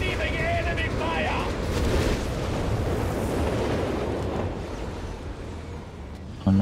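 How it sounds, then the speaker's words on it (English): Heavy explosions and artillery blasts rumble around a Matilda tank under enemy fire in Company of Heroes 3, a dense, continuous roar of battle with booming impacts throughout and a sudden loud hit at the very end. "Matilda receiving enemy fire!"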